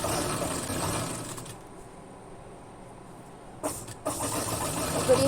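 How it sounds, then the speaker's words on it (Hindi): A sewing machine stitches along the side cut of a kurti, its motor whirring close in bursts with a clear pause in the middle before it starts up again. "इस तरीके से हमें कट पे सिलाई लगा देनी है।"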